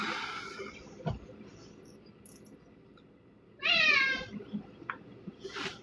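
A vocal house cat lets out one drawn-out, rising-and-falling meow close by in a quiet room, preceded by a soft click and followed by a few small knocks.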